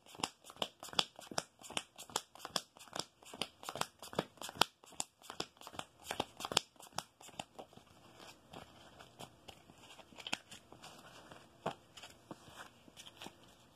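A deck of Yu-Gi-Oh! cards being shuffled close up, with quiet, rapid riffling and snapping bursts in an irregular rhythm that thin out toward the end.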